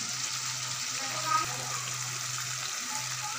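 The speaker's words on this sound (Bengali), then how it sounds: "ঝোলের জন্য গরম জল দিয়ে দিলাম।" Hot water pours into a pan of mutton liver curry, a soft steady gush and splash, fairly quiet and close, with faint kitchen background and no clear talking.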